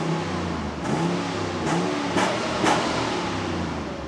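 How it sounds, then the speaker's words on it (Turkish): A Cadillac V8 engine, just back running after a failure, idles close by and gets blipped in three quick rev bursts, each a short rising roar over a steady rumbling idle. "Ver gazı ver."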